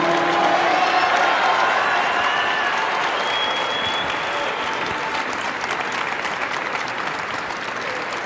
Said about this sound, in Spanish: A ver, que se escuche el aplauso.